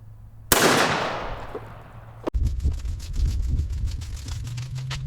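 A single loud shotgun blast fires a Hevi-Shot Magnum Blend load of mixed 4, 5 and 7 shot, a sharp close report with a decaying tail, followed by a clack and low rustling handling noise.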